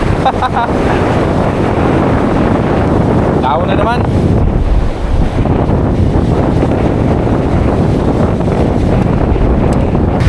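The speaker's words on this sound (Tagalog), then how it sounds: "Oh, laki ng alon." Steady rushing water of a strong river current with big waves and wind roar fill the whole stretch, loud and close, with a brief spoken remark near the start.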